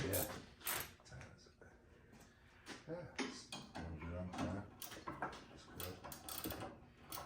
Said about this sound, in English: I'm using this 18 ratcheting wrench, and it's not spinning on me yet